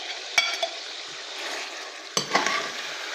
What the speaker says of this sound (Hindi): अब इसमें हम डाल देंगे चिकन जो हमने फ्राई करके रखा हुआ था।